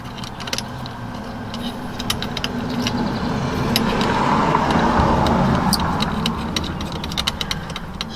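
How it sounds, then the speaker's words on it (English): Cars driving past on a nearby road, a broad engine and tyre rumble that swells toward the middle and fades again, with light metallic clinks and ticks from installation work close by. "Sorry about all the cars going by"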